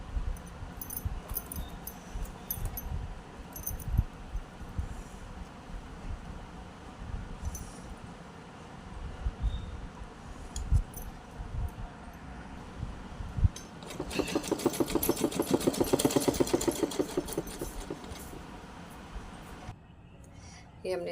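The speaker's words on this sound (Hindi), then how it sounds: "इस पे हम सिलाई लगाएंगे।" Sewing machine stitching two gathered fabric pieces together for a small Laddu Gopal Navratri dress, a steady mechanical whir rising for a few seconds late in the clip over faint room noise.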